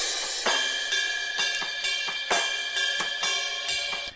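Drum kit heard through a stereo overhead microphone pair in a metal mix, with bright cymbals washing steadily and regular sharp hits landing in a driving pattern.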